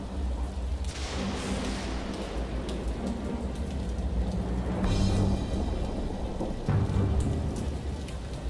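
Steady heavy rain pours in the video game Lucius II, with low rolling thunder rumbles building and swelling several times, loud and close, and no speech.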